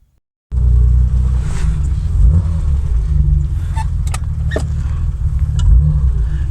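A 1967 Triumph Vitesse fitted with a new propshaft is driven fast, its engine droning in a loud low rumble from inside the car, rising and falling as it accelerates and shifts.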